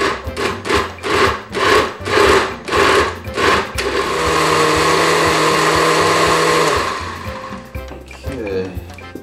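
A food processor pulses salsa ingredients in seven quick bursts, then runs steadily for a few seconds before stopping, whirring and chopping loudly close up.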